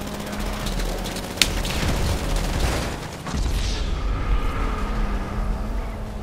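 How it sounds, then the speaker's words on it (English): A sticky bomb blast in GTA 5 Online: one sharp crack near 1.4 seconds opens into a dense, rumbling roar of gunfire and engine noise that keeps going at a steady, loud level to the end. "I tried to sticky bomb them, and it was very close"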